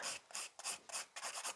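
Coffin-shaped sculpted acrylic nail being filed, giving a series of bright, dry rasping strokes in quick rhythm, close and steady with brief gaps between passes.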